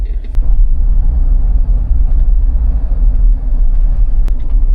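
A car pulls out of a busy parking garage in Seoul, its engine a steady low rumble echoing close by, with a few faint clunks over the continuous drone.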